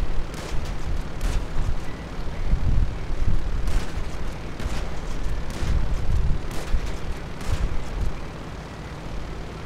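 A propeller plane in Grand Theft Auto V drones with a loud, rough engine roar and repeated crunching impacts and bangs as its damaged props keep spinning, steady throughout the clip.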